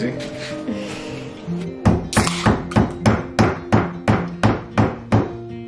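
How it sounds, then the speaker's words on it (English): Hammer blows strike a wooden window frame being taken apart, about a dozen sharp evenly spaced knocks in a steady rhythm, loud and close, after a brief stretch of background noise with faint tones. "he keeps hammering the crap out of it"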